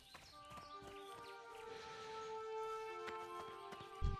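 Horses at a logging camp in the World of Warcraft video game, with clip-clopping hooves and a brief whinny among sustained tonal game music; steady and moderately faint.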